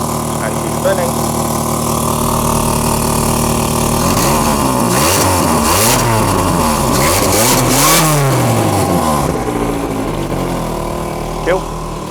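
An MG car engine with a turbo idles steadily, then revs repeatedly in rising and falling sweeps before settling back to idle, loud and close.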